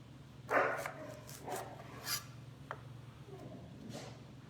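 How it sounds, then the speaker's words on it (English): An Australian Shepherd barking somewhere in a home kitchen, a few sharp barks and yips spread out over a steady background hum, moderately close. "we have a very talkative Australian Shepherd who likes to bark in the background"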